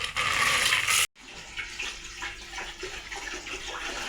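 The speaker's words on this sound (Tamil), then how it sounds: "வேணுன்ற அளவு தண்ணி இப்படி ஃபில் பண்ணியாச்சுங்க." Water gushes loudly into a fish tank for about a second, then cuts off abruptly, leaving softer splashes and sloshing that carry on through the rest.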